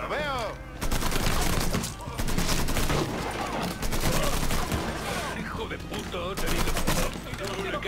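Video game shootout in Mafia III, with loud, dense bursts of gunfire and rapid automatic fire sustained throughout, voices speaking over the shooting.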